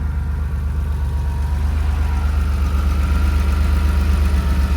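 A 1974 car's motor running at a steady, deep idle, close and continuous with a low rumbling throb, no talk.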